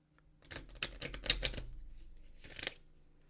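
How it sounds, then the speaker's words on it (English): A deck of tarot cards is shuffled close up in quick riffling bursts, several crisp flutters in a row, then one more flurry after a short pause, in a quiet room. "Let me shuffle the deck."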